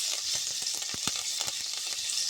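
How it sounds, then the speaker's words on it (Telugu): Curry leaves dropped into hot oil with frying tempering spices hiss in a steady bright sizzle, punctuated by faint crackles and spoon taps against the pan. "ఇప్పుడు కొంచెం పోపు దినుసులు ఫ్రై అయినాక కరివేపాకు వేసుకుందాం"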